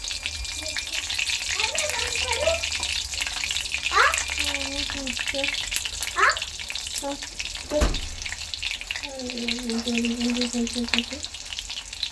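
Leaves frying in hot oil give a constant crackling sizzle, with a person talking over it and an occasional clink.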